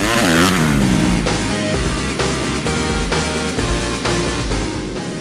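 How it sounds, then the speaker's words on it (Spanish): Several 450cc four-wheel quads roar off a motocross start line in Panama, engines revving loud and continuous with overlapping throttle surges, close and dense throughout. "Vamos con la primera manga del día de hoy en la categoría de los four wheels. Motores de 450 centímetros cúbicos."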